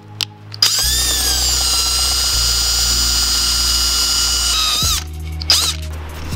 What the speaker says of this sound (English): we're going to go ahead and drill the hole for the grommet